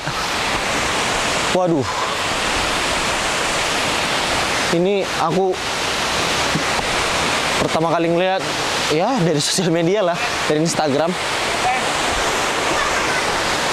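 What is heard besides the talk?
Efrata waterfall on Samosir, Lake Toba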